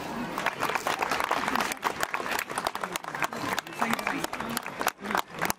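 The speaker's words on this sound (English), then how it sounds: "Let's give a huge round of applause for our PTA member Vaishali Kagajuna." A crowd claps for a PTA member at a school's annual sports fest, with continuous applause punctuated by cheers and a few voices, filling the space loudly throughout.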